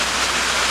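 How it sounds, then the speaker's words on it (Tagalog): Heavy rain pours steadily outdoors, a dense, loud, unbroken hiss of water with no pauses or distinct drops standing out. "So marag video saba-saba naman ning atong palibot ron kay ibundak na ba sa ning ulan."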